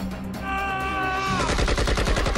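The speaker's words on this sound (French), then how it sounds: "Lors de violents échanges de coups de feu entre 2 catégories de fusils d'assaut" Assault rifle gunfire, including the AK-47, in a violent exchange of shots around caves and tunnels: rapid bursts of loud cracking reports over a droning background.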